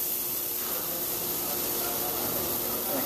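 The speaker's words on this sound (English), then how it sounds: "Cover it up and let it steam up a little bit" Steam hisses from a covered pan where sablefish (black cod) is cooking. The hiss is a steady, broad and fairly loud rush that continues unbroken for a few seconds with no other sounds.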